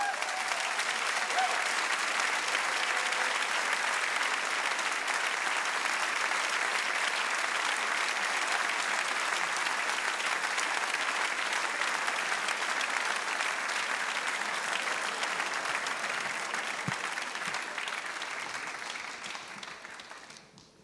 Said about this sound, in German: Einen fetten Applaus bitte für Cynthia Nikschas aus Bonn.